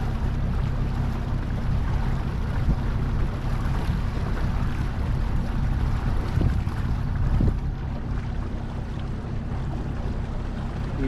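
A boat with a Minn Kota i-Pilot trolling motor turns sharply on open water, a faint steady hum buried under constant wind buffeting and water wash, with no talking.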